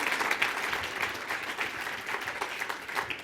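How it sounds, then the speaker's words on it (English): An awards-ceremony audience applauds athletes on stage, a steady, dense clapping crowd with no talk over it, holding evenly loud throughout. "So please, one more round of applause for all of them."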